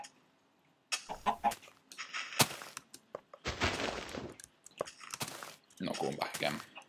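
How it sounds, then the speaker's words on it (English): A Minecraft chicken gives several short clucks in bursts amid other game sounds and noisy clicks. Someone talks over it. "It's a chicken,"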